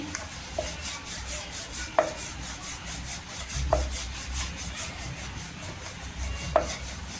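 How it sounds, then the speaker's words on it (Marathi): A rolling pin rolls chapati dough out into a round on a board, giving a soft, steady back-and-forth rubbing with a few light knocks at intervals, close and fairly quiet. "आपण चपाती लाटून घ्यायची पूर्णपणे गोल राऊंड मध्ये।"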